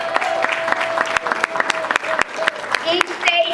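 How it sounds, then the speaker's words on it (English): Audience applause at a National Federation of the Blind 2015 national convention, dense steady clapping throughout with a sustained tone and some talk mixed in. "So I want you to applaud those states"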